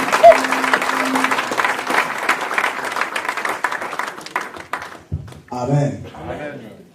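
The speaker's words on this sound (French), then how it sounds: "Est-ce qu'on peut encore acclamer très fort le Seigneur?" A church congregation applauding loudly and cheering for the Lord during a French-language service, steady clapping filling several seconds before fading, with voices calling out afterward.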